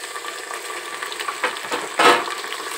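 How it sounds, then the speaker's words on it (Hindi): Onions and tomatoes frying for matar pulao, a steady close sizzle in the pan with a few louder stirring scrapes, the sharpest one near the end, and no talking. "अब हमें टमाटर को भी भून लेना है, इसी के साथ हमें भून लेना है इसे।"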